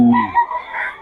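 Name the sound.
rooster crowing at chicken market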